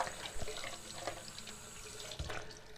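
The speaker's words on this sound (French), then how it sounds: "Donc je vais le rincer." A bathroom tap runs steadily while a very gentle, fresh face gel is rinsed off during an evening skincare routine, a soft continuous water flow with a few faint splashes and no talking.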